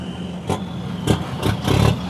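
A loaded dump truck's engine roars and revs in repeated surges outdoors at a Chanthaburi earth-hauling site, several throttle bursts rising over a steady diesel rumble, close and fairly loud.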